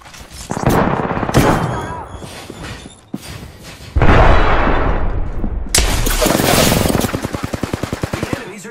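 Loud, close video game gunfire: bursts of automatic weapon fire and single shots come in quick succession, ending in a rapid, evenly spaced stream of shots.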